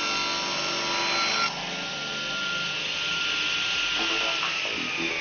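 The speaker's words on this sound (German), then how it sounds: "der sichere Umgang mit der Säge" A circular saw on a construction training site cuts wood, a steady high whining grind that shifts pitch partway through as the blade works the board, close and continuous.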